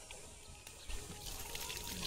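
Hot water is poured from a vessel for washing hands and feet at a village haldi ceremony, a steady splashing trickle over a busy, noisy background.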